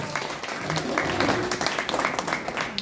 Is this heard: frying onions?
no